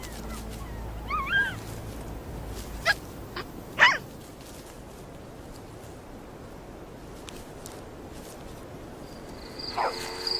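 Young jackal pups at play give a few short, high whimpers and yips, scattered and fairly close, separated by quiet stretches of outdoor background.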